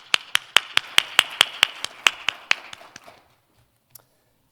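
A round of applause at a forum on ASEAN infrastructure connectivity: about a dozen sharp claps in a steady rhythm, close and fairly loud, fading out after three seconds and followed by silence and one stray tap.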